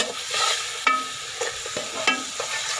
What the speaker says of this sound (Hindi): इसी घी के अंदर इसको आपने भूनना है